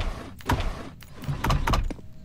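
Drawers slide open in the horror video game Doors, a few quick wooden scrapes and thumps in close succession, loud and near with no talk over them.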